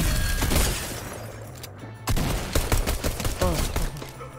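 Shotgun fire in the Fortnite battle royale game, several loud close blasts in irregular bursts, with a short quiet gap partway through and a voice talking in places.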